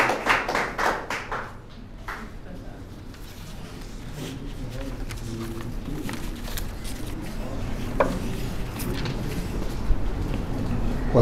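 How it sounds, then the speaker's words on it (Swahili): Audience applause at a seminar: a burst of hand clapping near the start tapers into a scattered crowd murmur with a few isolated claps. "ongeza makofi mengi mpaka afike hapa tafadhali"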